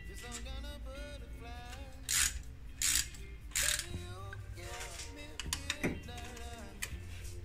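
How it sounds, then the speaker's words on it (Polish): Ratchet loosening the timing cover bolts on an Opel Z14XEP engine: bursts of rapid clicking ratchet strokes, close and fairly loud, mixed with some mechanical clatter. "Także teraz odkręcamy pozostałą część śrub całej obudowy rozrządu."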